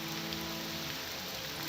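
Heavy rain in the video game Morrowind, a steady dense hiss of falling drops throughout with no talk.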